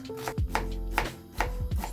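A knife finely chops onion on a board. Four or five distinct thudding cuts land at an uneven pace, close and fairly quiet, with no voices.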